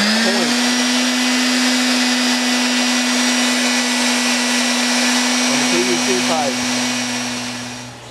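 A power sander whines steadily at close range against a barrel siphon part for an aquaponics setup, a continuous high buzz that briefly wavers and then tapers off at the end.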